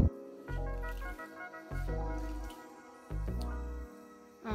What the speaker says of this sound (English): Get it evenly soaked, and then wring it out.